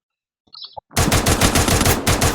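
Rapid automatic gunfire in the mobile battle-royale game Free Fire, a loud sustained burst of rattling shots that erupts after a brief faint interface sound.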